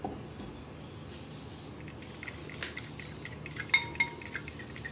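A spoon stirring spices into beaten yogurt in a bowl, faint soft scraping with a few light clinks of metal against the bowl near the end, quiet and close, no talking.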